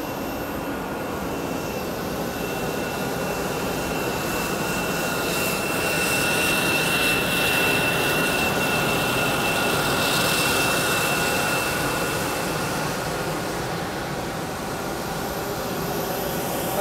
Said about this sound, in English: We currently have the APU running, so that's that noise in the background.